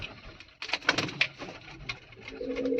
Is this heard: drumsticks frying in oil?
no